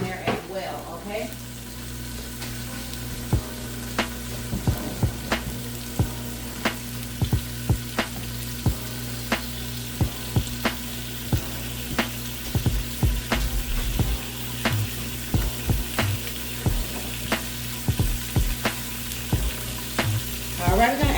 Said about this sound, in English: So we're just gonna let that fry.